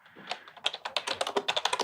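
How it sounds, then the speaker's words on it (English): Fingers tap rapidly on a computer keyboard close to the microphone, with quick, evenly spaced clicks that speed into a steady rhythm, and no voices are heard. "I know you can hear me talking, typing."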